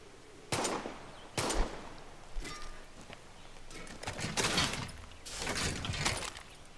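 Pistol shots crack out in Far Cry 6 at a turkey, several sharp reports spaced irregularly over a few seconds, with some coming close together near the end. The shots are moderately loud against quiet game ambience.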